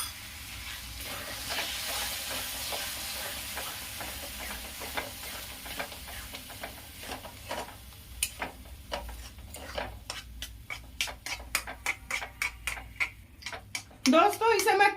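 Yogurt masala paste frying in a pan while being stirred constantly for chicken do pyaza, a steady sizzle and hiss with rapid clicking spoon scrapes that grow denser and louder toward the end.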